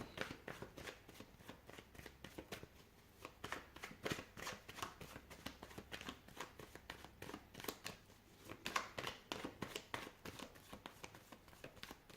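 Tarot cards are shuffled by hand in a steady run of crisp, riffling flutters and soft slaps, close and fairly quiet, with no talking over them.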